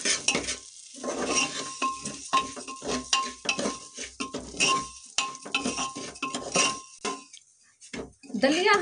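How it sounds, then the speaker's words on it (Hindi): Broken wheat roasting in ghee with cardamom and cloves in a pan, stirred steadily with a spoon scraping and clinking against the metal, soft sizzling underneath throughout. "दलिया हमारा भुनने लगा है।"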